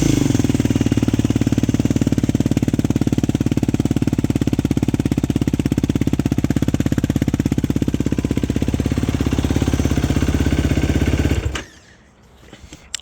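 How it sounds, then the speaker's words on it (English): 2019 Yamaha YFZ450R ATV engine idling high at close range, a loud, fast, steady chatter of rapid firing pulses that cuts off abruptly near the end, leaving near silence. "Idle's extremely high in my opinion, but that's nature of the beast."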